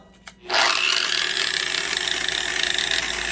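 A Makita 13-amp 4-1/2 inch variable-speed grinder fitted with a wire wheel spins up on low speed after a brief click, then runs as a steady, loud, close whirring whine with no talk.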